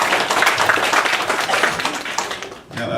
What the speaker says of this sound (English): round of applause for Suki, our winner for that